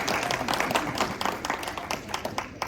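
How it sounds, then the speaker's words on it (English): A Toastmasters training audience applauds Distinguished Toastmaster Scott Brown as he comes up to present, a close room of clapping hands with distinct individual claps that thins out toward the end. "Yes, round of applause for Scott Brown"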